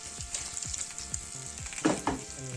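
Garden vegetables and raisins frying in a pan, crackling sizzle under repeated quick scraping stirs, with a louder clatter of utensil against pan near the end.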